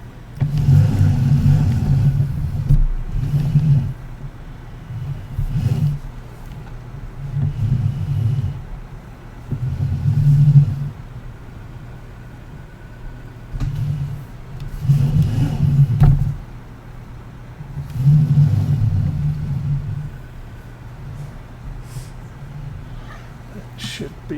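A tractor engine in the Farming Simulator 19 video game drones low and steady, rising in repeated revving swells as the tractor drives and turns, with a voice talking over it.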